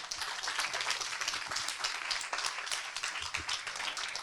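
Audience applause after a talk on Instagram profile strategy, a dense continuous clapping from a crowd, steady and fairly close, lasting the whole stretch.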